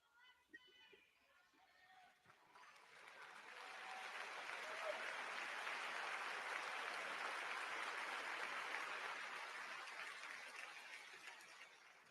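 Sustained applause from a large convention audience at the Democratic National Convention, swelling after a few seconds into a dense, steady roar of clapping that holds before easing slightly at the end.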